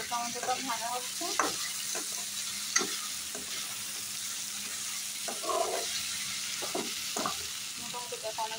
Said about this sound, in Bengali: এখানে আলু টমেটো ভাজা হচ্ছে